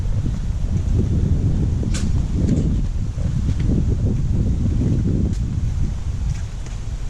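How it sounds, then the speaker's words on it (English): Strong gusting wind buffets the microphone outdoors beside a Roush Ford F-150 pickup, a loud continuous low roar that swells and eases throughout with no voices. "Sorry about the wind, guys. Super windy out right now."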